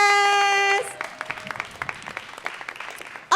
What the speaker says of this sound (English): Please give a round of applause for Juan, José, Cadena, Duenas.